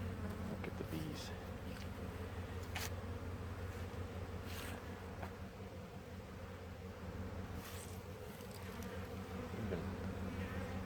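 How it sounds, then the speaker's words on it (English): Steady, dense buzzing of many honeybees close by at a small hive entrance, a continuous drone with occasional sharper passes as individual insects fly near. "Look at the bees."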